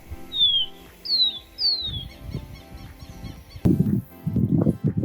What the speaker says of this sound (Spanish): este gadget casero que han producido para reproducir el canto llamando a las aves a las que quieren fotografiar